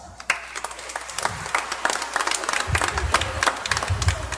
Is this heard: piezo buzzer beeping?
no